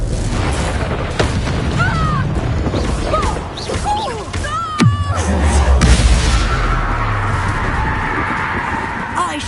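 The Confringo explosive curse goes off in Hogwarts Legacy on PS5 with a loud, close boom and crash, followed by a rumbling tail, among game voices and effects.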